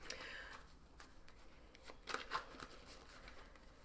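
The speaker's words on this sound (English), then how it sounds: "this method of shuffling is faster, so I tend to go back to it a lot" Tarot cards are shuffled quickly by hand in a quiet room, with soft riffling and a few sharper flicks, faint and close.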